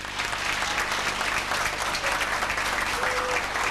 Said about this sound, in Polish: burzliwe oklaski bardzo licznie zgromadzonej publiczności